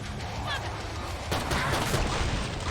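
Gunfire in the zombie shooter Killing Floor 2, dense bursts of shots layered with in-game crashes that grow louder and busier in the second half, continuous and close.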